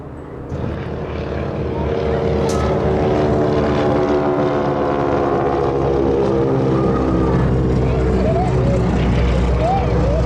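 A Boeing Stearman biplane with a propeller engine flies at an airshow, giving a loud, steady droning roar with throbbing harmonics that holds for the whole stretch.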